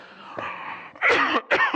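A person coughs twice in quick, loud bursts after a brief throat-clearing sound, close to the listener.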